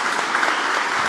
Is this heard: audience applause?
yes